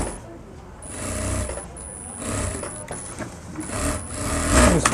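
A sewing machine stitches fabric for a Marwari kanjali garment, its busy mechanical chatter running throughout, close and moderately loud, while someone speaks over it.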